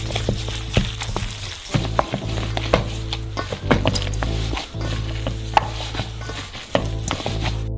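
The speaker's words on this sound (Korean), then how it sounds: "손으로 잘 섞어주세요" Minced meat with fresh chili pepper and salt is mixed by hand, giving soft squelching and stirring noises with scattered sharp taps over a steady low hum.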